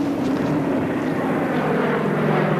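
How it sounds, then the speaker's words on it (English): A Coast Guard plane from Juneau drones steadily overhead, its engine giving a loud, continuous propeller hum with a low tonal buzz throughout. "First, a Coast Guard plane from Juneau arrived, dropping supplies."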